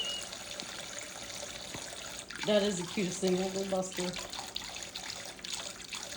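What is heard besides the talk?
pet splashing while bathing in water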